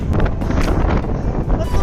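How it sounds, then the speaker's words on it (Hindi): Sudden gusts of wind buffet the microphone outdoors in Sri Lanka, producing a loud, continuous low rumble and roar across the whole moment. "ये हवा चल पड़ी अचानक से"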